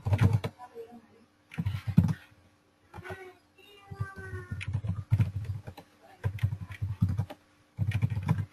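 Rapid typing on a computer keyboard, heard close and fairly loud in several bursts of dense key clatter separated by brief pauses, with faint tonal sounds drifting in between.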